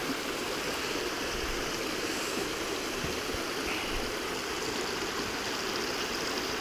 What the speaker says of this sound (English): There's a nice little waterfall right over there.